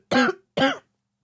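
Two sharp, close coughs in quick succession, then silence.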